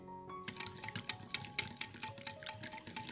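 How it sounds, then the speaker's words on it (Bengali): A hand whisk beats a flour and milk batter in a bowl, making quick, rhythmic wet clicks and taps at close range after a brief quiet start. "একটি হ্যান্ডউইক্সের সাহায্যে খুব সুন্দরভাবে এটাকে মিশিয়ে নিচ্ছে"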